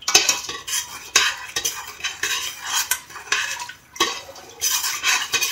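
Spoon stirring sugar into warm water in a lemonade pitcher: loud, close metallic clinks and scrapes in quick rhythmic bursts, with short pauses between rounds of stirring.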